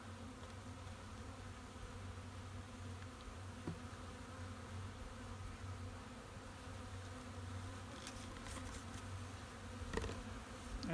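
Honeybees hum steadily inside an opened hive during Varroa mite sampling, a low continuous drone of many bees with a few sharper buzzes passing close near the end.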